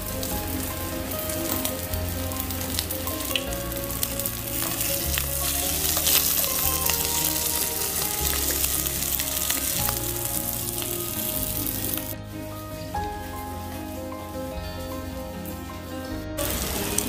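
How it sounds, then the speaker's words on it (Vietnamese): Leftover pieces of cơm cháy, Vietnamese crispy rice crackers, deep-frying in hot oil, giving a steady, dense sizzle and crackle that stays loud and close throughout, with no talking over it. "Giờ có Tuấn đang chiên những miếng cơm cháy còn lại"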